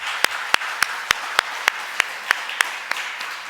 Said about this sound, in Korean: 우리 하나님 앞에 영광의 박수를 올려드리겠습니다.